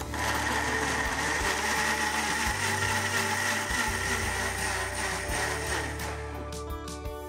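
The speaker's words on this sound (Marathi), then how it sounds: "आता आपण हे मिक्सरला बारीक करून घेऊया." A household mixer grinder blends about half a kilo of ripe red tomatoes for homemade tomato sauce, a loud steady motor whine with pulsing buzz that runs on without a break, then eases slightly near the end.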